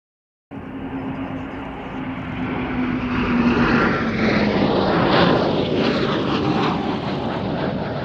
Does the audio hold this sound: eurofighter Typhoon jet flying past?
yes